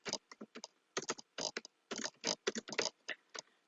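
Brief bursts of computer keyboard typing while saving an Excel spreadsheet, with irregular clusters of crisp key clicks and short gaps between them, close and fairly quiet, with no one talking.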